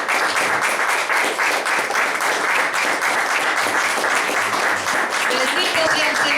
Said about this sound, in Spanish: Denle un aplauso grande a Dios